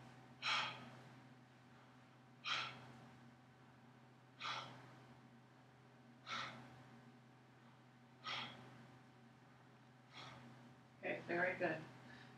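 A patient draws six slow deep breaths during a chest examination, each a soft, regular inhale-and-exhale rush spaced about two seconds apart, close and quiet.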